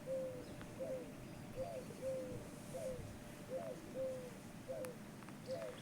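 A pigeon pecking grain nearby gives soft, regular cooing calls, about one every second or so, over a faint steady background hum.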